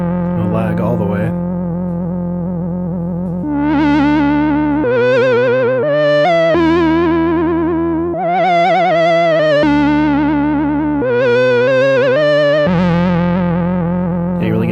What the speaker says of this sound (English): Yeah, you really get that kind of messed up tape sound.